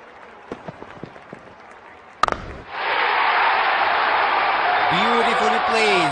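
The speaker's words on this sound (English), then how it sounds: "Crowd is going crazy." A cricket stadium crowd at a T20 World Cup match between Australia and West Indies erupts into loud, sustained cheering after a sharp bat strike, with a few thuds beforehand and horn-like tones rising over the roar.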